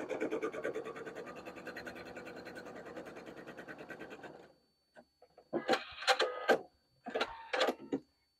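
A sewing machine runs a long continuous seam along a strap edge, a steady rapid mechanical chatter for about four seconds, then falls silent before two shorter stitching bursts along the opposite edge.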